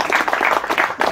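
Audience applause at the Saint Lambert chapel festival in Vence, a steady dense clapping filling the short moment with no pauses.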